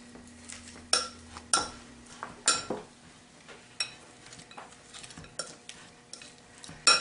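A spoon stirring soft cream cheese mixed with five cheeses in a bowl, with irregular scraping strokes and occasional sharp clinks against the dish, close and fairly quiet with no talking.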